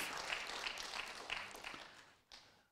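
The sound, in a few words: congregation clapping in church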